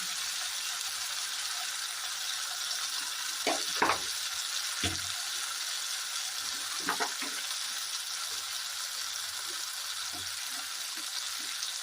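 Spices (turmeric, Kashmiri chili powder and coriander powder) frying in a pan for a jackfruit curry, giving a soft continuous sizzle with occasional scraping strokes of a stirring spoon, fairly quiet and close.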